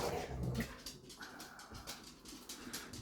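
Two dogs play quietly indoors, a puppy letting out faint, brief whimpers and soft yelps over a low background.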